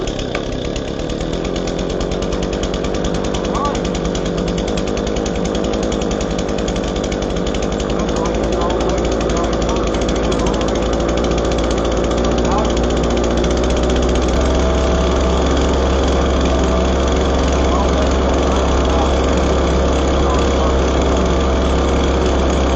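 A small Echo PB-2100 two-stroke leaf blower engine runs after a carburetor replacement, a loud, buzzing, high-revving drone held steadily and close throughout, with someone talking over it.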